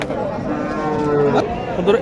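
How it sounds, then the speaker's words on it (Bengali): A Sahiwal and deshi cross cow at an open cattle market gives a drawn-out, close, loud moo lasting most of two seconds, with background crowd chatter around it. "এখানে একটা গরু আছে দেখেন এটা"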